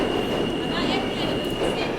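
A New York City subway train sits in a station with a steady loud rumble and hum, a sustained high electrical whine riding over it and brief squealing tones, with people talking faintly under the noise.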